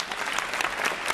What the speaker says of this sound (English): you should give yourselves a round of applause for being here